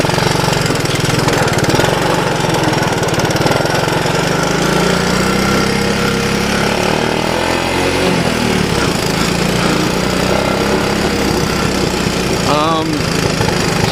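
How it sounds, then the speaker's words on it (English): Honda ATC185 three-wheeler engine running up through the gears on a test drive, a loud, close, rough drone that climbs and drops with each shift, with a brief chirp near the end. "So she runs up through the gears pretty good, which is nice."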